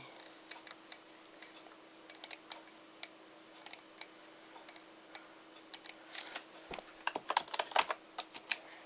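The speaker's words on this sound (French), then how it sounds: "C'est mon clavier fait beaucoup de bruit." Clicky computer keyboard typing, sparse keystrokes at first then quickening into a dense burst of rapid taps near the end, close and fairly quiet.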